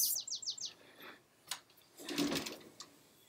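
A short run of bright, rapid bird chirps up front, followed by scattered faint clicks and rustles outdoors.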